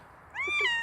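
A single short, clear cat meow from a kitty poster in the underwater survival game Subnautica, rising and then sliding down in pitch, heard close and alone against a quiet background.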